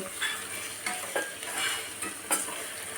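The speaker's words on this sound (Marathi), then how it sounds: "आता आपल्याला परतून घ्यायचं आहे" Pasta masala with Kashmiri chili powder being sautéed and stirred in a pan, giving a steady close sizzle broken by several scraping spoon strokes against the pan over three seconds, with no talking.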